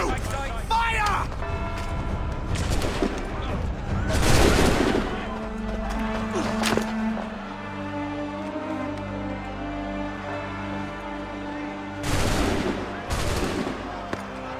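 Musket volley gunfire in the Assassin's Creed 3 video game: several loud, sharp shot bursts, including a sustained crackling volley near the start and another cluster near the end, with humming ambience and voices between the shots.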